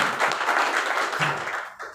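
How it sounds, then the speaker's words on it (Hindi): An audience at a business meeting gives loud applause, a dense, steady wash of clapping lasting about two seconds. "एक बार जोरदार तालियां होनी चाहिए"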